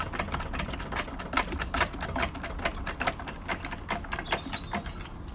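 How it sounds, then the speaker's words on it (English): Rapid mechanical clicking and whirring of a jack raising a Vauxhall Corsa at its sill jacking point, a dense steady ratcheting rhythm running throughout at close range, with no talking. "Jack it up nice and easy"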